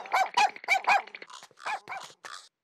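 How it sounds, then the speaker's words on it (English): Cartoon dog barking and yipping in quick bursts while chasing, a fast run of four loud barks followed by several shorter, slightly fainter ones, close and alone. "the neighbor's dog, Oscar, chases Kick and eats his homework"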